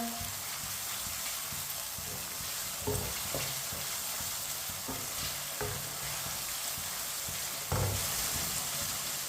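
Tomatoes cooking in a pan with a continuous loud sizzle, punctuated by occasional stirring knocks and scrapes of a spoon, close up with no voices.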